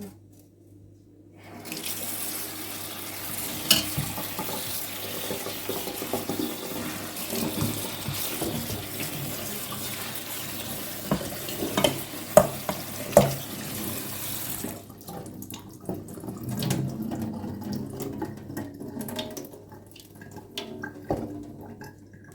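Freshly picked garden vegetables, including a young beet leaf, are rinsed under a running kitchen tap. Water gushes and splashes steadily for over ten seconds, then fades to quieter drips and handling sounds.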